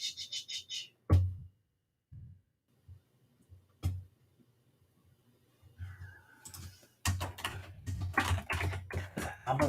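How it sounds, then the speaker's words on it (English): Computer keyboard typing comes in short clustered bursts of clicks, sparse at first and then denser and busier toward the end, close and fairly quiet with no talking. "Guys, you hear me typing away."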